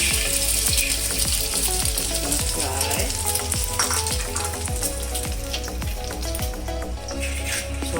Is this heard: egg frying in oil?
yes